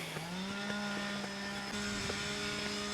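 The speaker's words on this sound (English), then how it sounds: "Nothing like a small petrol engine whizzing away" A small petrol engine, likely a strimmer or chainsaw, whines steadily throughout at a fairly constant pitch with slight revving, heard outdoors at Kimmeridge Bay.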